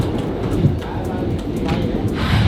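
Reunification Express overnight train pulling out of Da Nang, a steady low rumble and rolling clatter heard from inside the carriage, continuous and fairly loud with faint background murmur.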